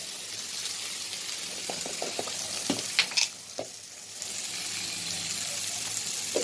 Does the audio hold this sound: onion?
yes